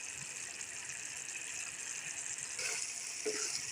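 About a litre of water is poured into a pot of fried masoor lentils, a soft continuous gushing hiss that grows slightly louder near the end, with no talk over it.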